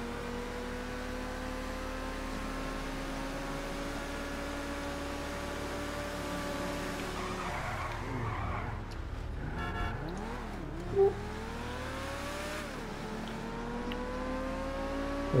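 Car engine accelerating in GTA V, a steady droning tone with rising pitch that dips and swells midway as revs change, fairly loud and continuous throughout with no talk.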